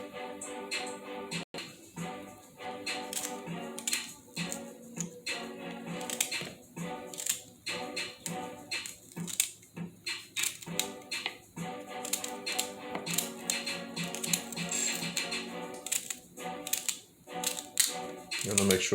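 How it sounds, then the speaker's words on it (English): A knife chops celery on a cutting board for soup in rapid, irregular clicking taps that run continuously at close range, with a person's voice speaking intermittently over them. "Same thing with the celery, just cut it up."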